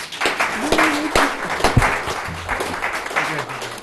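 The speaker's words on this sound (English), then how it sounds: "Let's give all these candidates a round of applause." Scattered, uneven claps ring out from the audience at a local candidates' forum, sharp individual hand claps spread over a few seconds with talk underneath.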